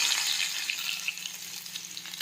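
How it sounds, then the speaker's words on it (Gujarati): Mustard seeds, cumin and crushed garlic sizzle in hot oil for a Gujarati kantola vegetable dish, giving a loud, close, continuous crackling fry with small pops, heard alone without talk. "હવે આપણે તેમાં રાઈ અને જીરું નાખી દઈશું. ખાંડેલું લસણ નાખી દઈશું."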